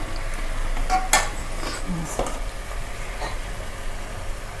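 Onions and tomatoes sautéing in a pan for fish head curry, a steady moderate sizzle broken by a few sharp scraping and clinking stirs of a spoon against the pan.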